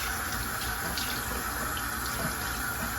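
Tap water runs in a steady, loud rush as plant roots from propagation cuttings are rinsed under it, an even, continuous splash with no pauses.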